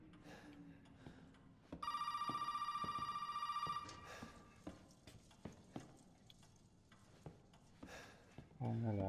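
A bright electronic telephone bell rings for about two seconds in Resident Evil 7, loud and steady, while hoofbeats clop rhythmically around it.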